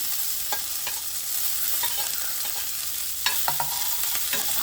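Chili powder being stirred into a frying pan over a low flame for a Kerala-style fish fry, with a steady soft sizzle and occasional scraping strokes of the spoon, close and with no voices.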